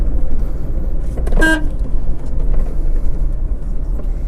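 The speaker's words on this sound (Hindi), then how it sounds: "इन पे गाड़ी को चला के दिखाता हूँ" A Maruti Eeco van moves along a narrow road with a low, continuous engine and road rumble, broken once near the middle by a short, sharp horn toot.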